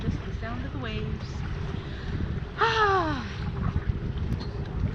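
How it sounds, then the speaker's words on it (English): Sea water washing against a sailboat under sail with no motor running, a continuous hiss of water and wind while people's voices rise over it. "There is no motor on. There is no motor."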